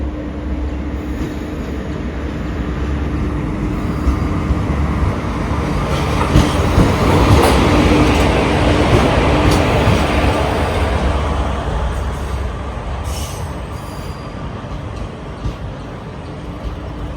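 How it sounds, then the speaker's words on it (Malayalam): Kannur–Alappuzha Executive Express passing on the Ernakulam–Thrissur line in Kerala, a loud continuous rumble and rattle of wheels on track that swells toward the middle and then slowly fades. "കണ്ണൂർ ആലപ്പുഴ എക്സിക്യൂട്ടീവ് എക്സ്പ്രസ് ആണ് വരുന്നത്."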